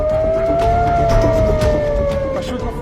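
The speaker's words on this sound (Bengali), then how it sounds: "আঘাত হানার পরপরই ইসরায়েল জুড়ে বাজতে থাকে সাইরেন" Air raid sirens sound across Israel during a ballistic missile strike: a steady, loud wailing tone that rises slightly, then slowly falls over a few seconds against a rough, noisy background.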